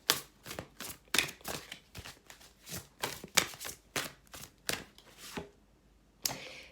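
Tarot cards are shuffled by hand in a quick, uneven series of close riffling bursts, each a short papery flutter, pausing briefly before one last shuffle.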